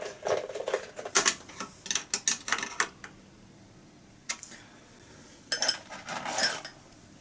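Bolts being refitted to the rectifier of a Bosch alternator from a 1990s BMW, a few close metallic clinks and tool scrapes in short bursts separated by quiet pauses.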